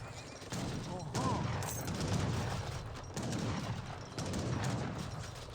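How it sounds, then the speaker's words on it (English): Gunfire from the real-time strategy game Age of Empires 3 crackles in scattered volleys of shots amid battle noise, with a voice talking over the action. "Warhut firing some shots there."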